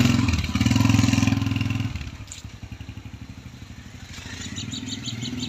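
A motorcycle engine idles nearby with a low, pulsing putter that dips and recovers, with faint bird chirps in the background and no speech.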